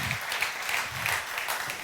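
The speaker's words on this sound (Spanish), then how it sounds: "¿Cómo no lo voy a aplaudir a mi Dios?" A church congregation claps together for God, a steady, dense patter of many hands that keeps going without a pause, moderately loud and heard from within the room.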